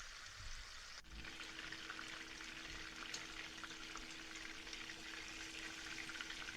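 Beef chapli kabab patties fry in a pan over medium heat, a faint, steady crackling sizzle that fills the whole stretch with a soft onset near the start.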